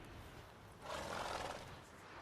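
A horse in The Witcher 3 lets out a single loud, breathy neigh of about a second, rising over steady background noise, with no talking over it.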